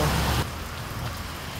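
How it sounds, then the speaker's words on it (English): Steady rain pours down in Jamaica on a hot day, a dense even hiss of drops on surfaces that opens with a louder burst and then settles into constant nearby rainfall with no voices. "this rain is something that we were needed"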